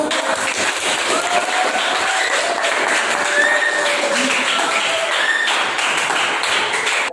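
A classroom of ninth-grade students applauds together, steady dense clapping lasting about seven seconds at an even level before stopping abruptly, with faint voices and a few thumps beneath.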